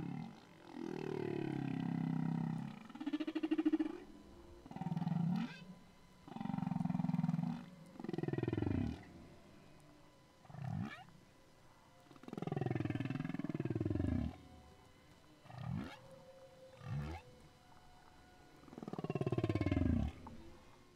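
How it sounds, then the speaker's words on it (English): Deep, moaning humpback whale song with slow swooping calls and grunts, repeated in phrases separated by brief pauses, muffled as if heard underwater. "So the whale that you'll hear singing, that's him a few minutes later."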